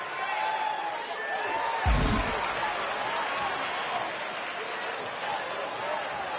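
Steady crowd noise from a wrestling video game arena, a continuous wash of cheering and applause running under an announcer's commentary throughout, with a brief low thump near the start.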